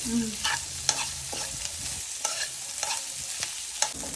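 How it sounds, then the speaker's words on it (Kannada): Mint and coriander leaves are stir-fried until brown in a village-style kitchen pan, with a gentle sizzle beneath rhythmic spatula scrapes and taps about every half second, close by. "ಪುದೀನ ಕೊತ್ತಂಬರಿ ಇಷ್ಟೆಲ್ಲ ಹಾಕಿ ಕಂದು ಬಣ್ಣಕ್ಕೆ ಎಲ್ಲ ಮೆಲ್ಲೋಗಂಗೆ ಉರ್ಕೊಬೇಕು"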